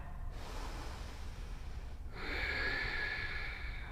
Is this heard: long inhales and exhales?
yes